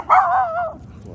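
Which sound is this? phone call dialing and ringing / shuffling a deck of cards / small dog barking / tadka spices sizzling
small dog barking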